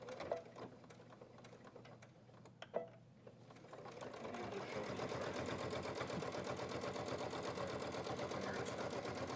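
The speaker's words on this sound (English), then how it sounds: "using a 1/4 inch seam allowance, sew the zipper pouch front and back together, sides together" A sewing machine stitches a zipper pouch's front and back together along a quarter-inch seam, first a few short bursts, then a steady, close, continuous run of rapid stitching.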